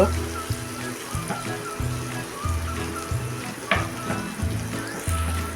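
Asafoetida, turmeric and ground dried coconut sizzle as they sauté in hot oil for a hotel-style potato curry served with puri, a steady close frying hiss broken by occasional spoon clatter.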